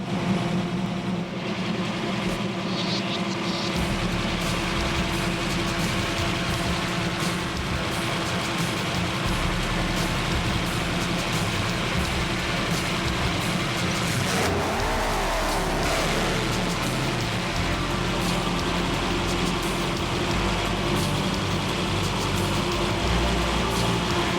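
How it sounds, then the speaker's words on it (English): A JA Performance bow-tie block stroked to 416 cubic inches, making about 600 horsepower and fitted with a single shot of nitrous, runs as a loud, steady, close engine roar that holds for the whole stretch with no voices. "It is a JA Performance bow tie block, stroked out to 416 cubic inch."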